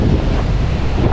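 Rough sea waves surge against the shore by the Güzelcehisar basalt lava columns near Amasra on a cold, stormy day. A loud, continuous roar is heavily buffeted by wind on the microphone.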